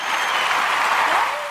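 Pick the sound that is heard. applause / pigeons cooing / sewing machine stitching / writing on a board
applause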